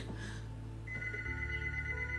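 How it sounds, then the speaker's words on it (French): Dad's telephone rings with clear repeating electronic tones over a steady low hum, with no voices. "Mais attends, c'est le téléphone de papa."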